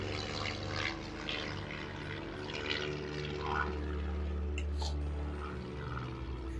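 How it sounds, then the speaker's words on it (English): A biplane passes overhead at a holiday resort, a steady low propeller drone rising and fading across the whole stretch beneath faint outdoor ambience, with no talk. "There's a biplane going over."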